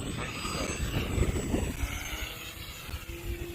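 A Fun Cub RC airplane running on a 4S battery flies nearby, its propeller and motor giving a steady buzzing drone that rises and falls slightly in pitch, moderately loud against wind noise.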